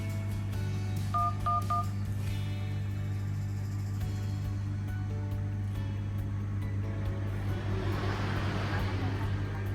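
Dialing tones sound on a Xiaomi Mi A1 phone placing a call, a few short repeated beeps near the start over a steady low electrical hum and background noise.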